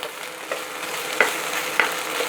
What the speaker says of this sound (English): So now once this is done, we'll add 1 teaspoon ginger garlic paste. Mix it well.